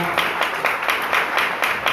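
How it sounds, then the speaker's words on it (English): A crowd claps continuously, a brisk steady patter of many hands at moderate volume. "Give a big round of applause for the support."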